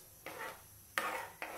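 Rice kheer is stirred in a pressure cooker with a spoon, making three short scraping strokes against the metal, close and fairly quiet, with soft pauses between them.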